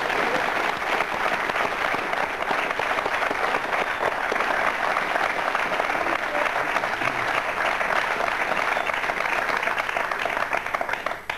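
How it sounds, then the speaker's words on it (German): Sustained, dense applause from a large audience in honour of a football player joining FC Linz, steady and loud throughout without pause, fading slightly only at the very end. "ein wohl mehr als verdienter Beifall"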